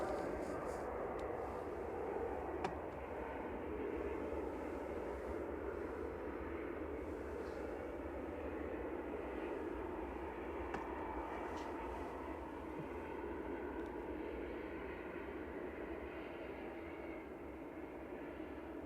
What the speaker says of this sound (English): EasyJet 7013 from Malaga coming in now, OELKC, an A319.